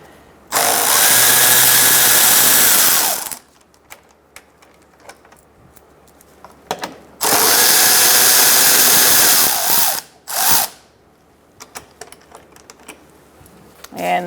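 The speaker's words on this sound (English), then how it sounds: "we're going to use a 10mm socket to remove these two bolts" A power driver with a 10mm socket backs out two bolts on a 2004-2009 Mazda 3 during an oil change: two long, loud whirring bursts separated by quiet, then a short final spin.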